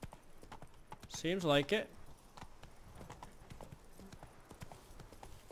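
Horse hooves clip-clop during riding in The Witcher 3: Blood and Wine, a game set in a tournament area, a short rhythmic burst of hoofbeats early on, then quieter, with a person talking over the game audio.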